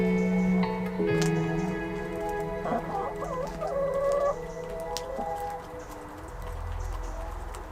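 Chickens cluck and warble nearby over a background of steady patter like light rain, with a few sharper calls rising in the middle.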